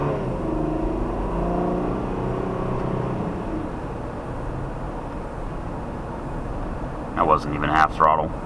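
A car engine revs and accelerates at about half throttle at night, a steady rising drone that fades into road rumble, with a brief noisy burst near the end.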